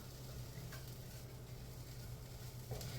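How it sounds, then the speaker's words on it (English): Thawed cauliflower rice sizzling in a frying pan, a faint, steady crackle with a soft low hum beneath and an occasional stirring scrape. "So I'm going to add a cup of frozen cauliflower rice that has thawed"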